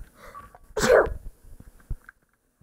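A single loud, close sneeze bursts out about a second in, with a short breathy intake before it and faint rustling afterward.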